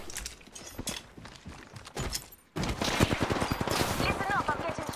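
Rapid gunfire in the Apex Legends battle royale game, dense rattling bursts of automatic shots that grow louder and more continuous partway through, with game sounds layered in.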